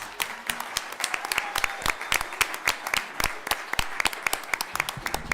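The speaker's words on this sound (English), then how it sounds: "Let's give them one more round of applause." At a school board meeting, a smaller group applauds the boys and girls with scattered, distinct claps in uneven rhythm, individual hands standing out, fairly close and moderately loud, with faint background murmur.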